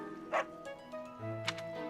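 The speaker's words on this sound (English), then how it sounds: "Oh, or this dog." Dog barking in the video game Fire Emblem: Three Houses: two sharp barks, one early and one near the end, amid soft game music, fairly quiet.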